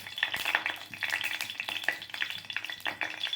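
Oil heats in a kadai for a tempering, crackling and sizzling with quick irregular pops and stirring scrapes, close and fairly loud with no voices.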